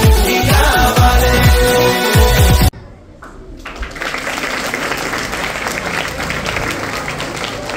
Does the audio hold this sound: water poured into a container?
no